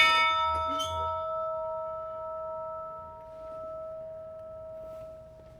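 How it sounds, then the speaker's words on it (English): A large temple-style bell, the Sakuya Ai no Kane (bell of love) at Kawaguchiko, Japan, struck once with a sharp strike and then a long, steady humming ring that slowly fades over several seconds, heard alone without talk. "check out this cool bell. It's called the Sakuya Ai no Kane, which means the bell of love."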